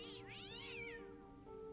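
A cat meows in the video game Fran Bow, a single long, wavering, plaintive cry that rises and falls, heard alone and fairly faint over a low steady background hum.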